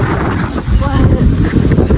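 Strong gusts blow ahead of rain in a village, buffeting the microphone with a loud, rumbling roar, while people talk over the wind.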